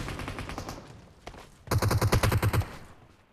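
Automatic AKM rifle fire in PUBG Mobile: a loud, close burst of about ten rapid evenly spaced shots near the end, after quieter scattered shots and rumble earlier.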